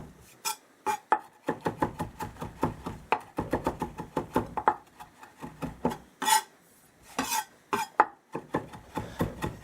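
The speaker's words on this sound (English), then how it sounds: "run your knife through it here a little bit and back and forth a few times" A kitchen knife rocks back and forth through a balled-up bunch of fresh herbs on a cutting board, giving a steady run of close, crisp chopping taps with brief pauses between bursts.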